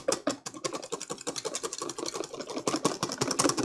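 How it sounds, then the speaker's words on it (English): A hand whisk beats cream rapidly in a bowl, making a fast, even train of close, crisp wire-on-bowl strokes with a brief pause midway. "hold it like you're pointing at something, and just start whisking, your cream is going to come together very quickly"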